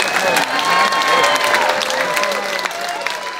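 A concert audience at a Christmas show applauds the band with a dense, loud, continuous wash of clapping and some crowd noise that fades slightly toward the end.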